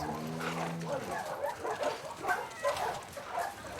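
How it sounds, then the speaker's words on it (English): Dogs yip and bark in short, uneven bursts inside a kennel in The Last of Us Part II, heard under a voice that is talking. "here's where they keep all the dogs"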